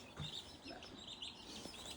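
Young chicks and meat birds in a brooder inside a small garage chirp and peep in quick, overlapping high calls throughout, fairly faint and continuous.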